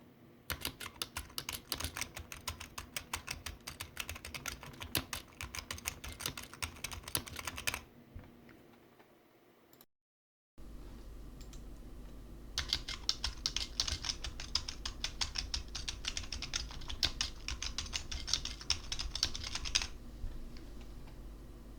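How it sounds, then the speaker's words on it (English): Rapid typing on a computer keyboard, recorded through a Trust Mico GXT 212 USB microphone, with dense clattering keystrokes, a brief pause, then a second burst of fast, fairly close typing over faint background hum. "We're basically going to be spamming the keyboard a little bit."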